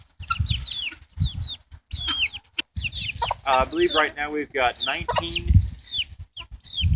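Backyard flock of about 20 hens and a rooster clucking and calling in short repeated bursts, close by, with someone talking over them at times.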